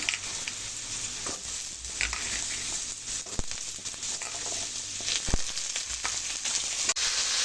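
Sweet potatoes and white potatoes frying in hot oil with cumin and dried chilli, a steady dense sizzle with faint stirring scrapes throughout, close and continuous with no talking.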